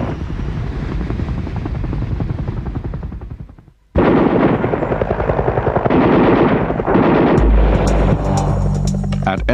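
Heavy gunfire and artillery crack around a helicopter landing zone at LZ X-ray, rapid bursts of shots over a loud, throbbing rotor, briefly fading to near silence before the din resumes at full strength.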